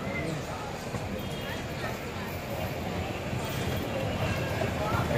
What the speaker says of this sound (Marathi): आता मी आलो इकडे रेल्वे स्टेशनला तिरुपती.